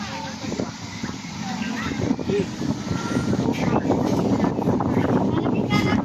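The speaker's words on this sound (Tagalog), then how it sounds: "Napakalakas ng hangin." Strong wind roars continuously against the microphone, a dense buffeting rumble that swells and holds, with faint voices underneath.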